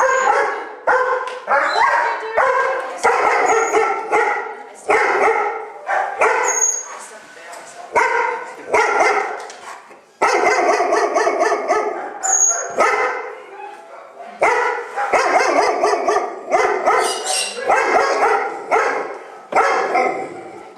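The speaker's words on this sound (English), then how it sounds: "What are you barking at?" Repeated dog barks and yips, close and fairly loud, in an irregular series across the whole stretch, with short pauses between bursts.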